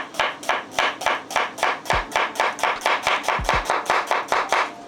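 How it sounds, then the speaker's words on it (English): A knife chopping onions on a board for Ghanaian palava sauce: about eighteen crisp, evenly spaced cuts in a quick steady rhythm, close and clear with nothing over them. "chop up some onions."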